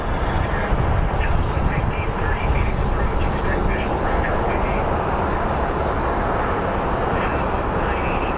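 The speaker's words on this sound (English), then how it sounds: "So we have, this plane is headed to San Francisco. It's an A320" Airbus A320 airliner at Phoenix Sky Harbor airport, heard as a steady, loud broadband jet roar that holds throughout, with people talking over it.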